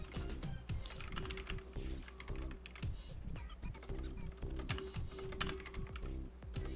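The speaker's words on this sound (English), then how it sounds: "I can't type on this keyboard anymore." Rapid typing on a computer keyboard, a steady stream of close, crisp key clicks and clacks with no talk, set over a faint background hum.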